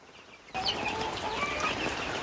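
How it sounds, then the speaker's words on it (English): Chicks and chickens on a homestead chirp and cluck continuously at close range, with bright, overlapping peeping that starts abruptly and carries on steadily. "There's all the chicks. There's some more chicks."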